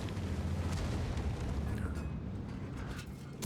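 A tank cannon firing gold shells in a tier 10 tank battle video game, a heavy booming roar that fills the whole stretch, loud and dense with no distinct pauses.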